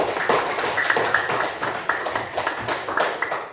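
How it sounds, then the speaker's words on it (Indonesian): A classroom of students claps for a classmate named Zahira, a steady patter of hand claps rising and falling for several seconds, fairly near and without talk. "Tepuk tangan buat Zahira"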